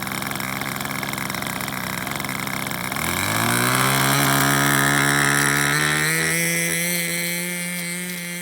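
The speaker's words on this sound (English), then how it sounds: "We found that this engine needs to run slightly rich on its flat." An SH GF6 model aircraft engine, set to run slightly rich, drones on the ground, then revs up sharply partway through to a loud, high, steady buzz that slowly eases at the end.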